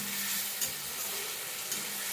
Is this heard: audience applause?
no